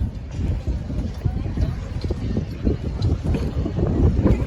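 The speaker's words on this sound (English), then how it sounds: "Ooh, getting windy." Steady wind buffeting the microphone, a continuous low rumble with gusty swells throughout and no clear voices.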